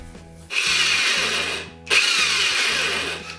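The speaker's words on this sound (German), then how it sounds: "Ich habe jetzt mal die Löcher gebohrt" A power drill bores holes for square steel tubes during construction of a sled-like cart, two loud sustained runs of whining drilling separated by a brief pause, with a low steady hum beneath.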